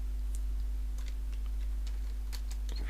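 Typing on a computer keyboard while filling in a spreadsheet form, a run of irregular close key clicks over a steady low hum, with no voice.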